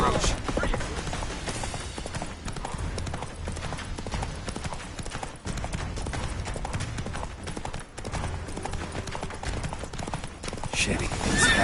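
Geralt's horse Roach gallops in The Witcher 3 on PS5, hooves drumming in a steady fast clip-clop that runs throughout under game music and shouted dialogue, with a brief whinny.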